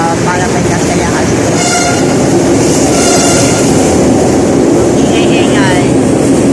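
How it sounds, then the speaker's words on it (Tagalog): An LRT train rolls past loud and near, a continuous heavy roar with metallic screeching and rail clatter filling the whole stretch, and a voice partly buried under it. "Ang ingay ng tren dumaan yung LRT."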